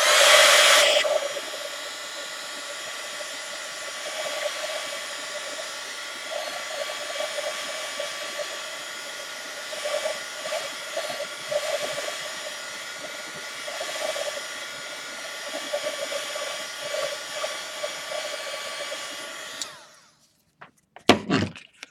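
A hair dryer blows steadily on freshly painted chipboard, a loud, constant whine with a slight flutter that runs for about twenty seconds before switching off, followed by a few brief clunks.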